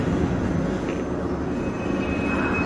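A train rolls along in the sci-fi shooter DOOM 3, giving a steady loud rumbling drone with a continuous low roar and faint high whine that holds evenly from start to finish.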